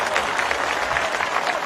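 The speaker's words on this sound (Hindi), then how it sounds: "जोरदार तालियां बजाइए साथियों" A crowd at a political rally in Raigaon, Madhya Pradesh, claps as Kamal Nath takes the stage, giving a brief burst of dense, fairly loud applause.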